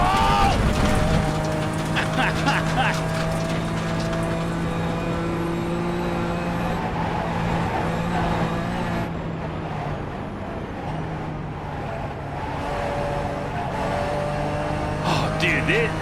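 Race cars lapping Nashville Superspeedway in the eNASCAR Coca-Cola iRacing Series, sustained engine drones with shifting pitch over a continuous roar, heard under excited talking.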